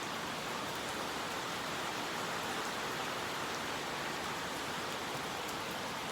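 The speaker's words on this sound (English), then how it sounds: "the tropical rains have come" Tropical rain falls as a steady, even hiss, continuous and moderately soft, with no voices or other sounds over it.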